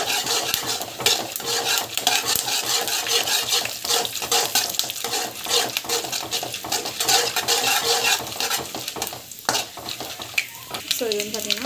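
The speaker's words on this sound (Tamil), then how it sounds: "கடுகு, சீரகம், நல்லா வந்து வதங்கட்டும்." Mustard seeds and cumin sauté in a pan for temple-style puliyogare, a loud busy crackle and sizzle with constant scraping of a metal spoon against the pan, dense and close throughout.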